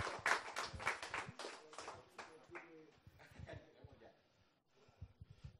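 A crowd at the Battlefield 3 Xbox 360 France Cup final esports event claps for the winning team, a short burst of applause that fades quickly as voices talk over it.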